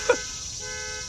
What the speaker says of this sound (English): this smoke detector had actually been beeping